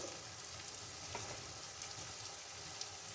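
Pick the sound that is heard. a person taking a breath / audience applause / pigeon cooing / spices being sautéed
spices being sautéed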